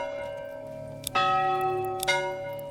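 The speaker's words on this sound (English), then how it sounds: "Haven't done the church bell sound," Church bell strikes ring out twice in the medieval city-building game Manor Lords, each clang bright and sustained with a long decaying tail and no talking over it.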